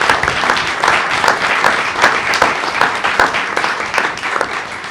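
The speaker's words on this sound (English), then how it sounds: "Let's give them another round of applause." Audience applause at a school board meeting, honoring state-qualifying student athletes: loud, full clapping from a roomful of people, with sharp individual claps popping out of a continuous crowd roar for about five seconds.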